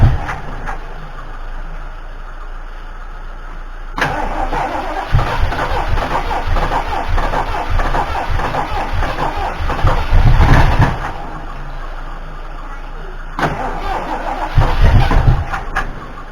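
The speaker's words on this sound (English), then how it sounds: "I'm not having any luck with it starting up right now, and it kind of should be starting up right now" A Ford 351M/400 V8 cranks in two bursts and fails to catch, the first a long churning stretch, the second a shorter try, with low rumbling and idle gaps between attempts.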